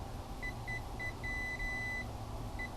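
Short electronic beeps from a multimeter's continuity test on a dirty furnace flame sensor, several brief chirps then one longer tone and a final chirp, steady against a low background hum.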